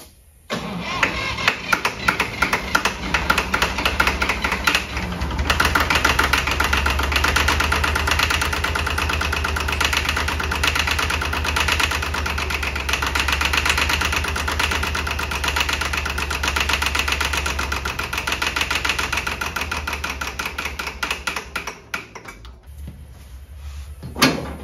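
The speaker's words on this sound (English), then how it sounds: "we might see if we can get this tractor to start." An old tractor engine with long-stored gas cranks, catches and then runs at a steady, rough idle for about twenty seconds, close by, before cutting off.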